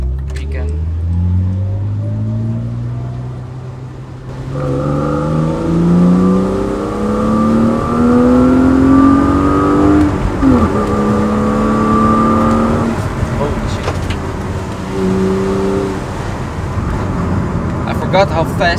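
A BMW E36 323i engine with a swapped-in M50 intake manifold revs up loudly, its pitch climbing through rising gears with brief dips between shifts, close and continuous, with some talk underneath.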